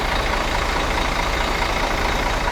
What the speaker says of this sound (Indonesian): Suara mesinnya ini, aduh, bikin candu banget sih suara mesinnya.